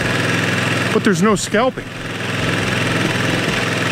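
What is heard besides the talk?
lawn mower engine running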